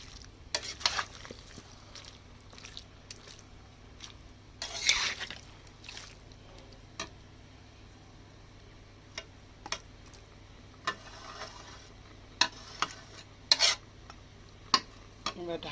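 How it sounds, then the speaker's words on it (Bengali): Chicken pieces being stirred in a spice masala in a pan: intermittent scraping strokes of a spoon against the metal, some louder bursts, over a faint low background sizzle. "আমি মাংস দিয়ে দিয়েছি মশলার উপরে"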